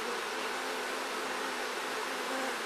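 Honeybees buzzing at an active beehive, a steady dense drone from many insects close by with no gaps, working among combs being built.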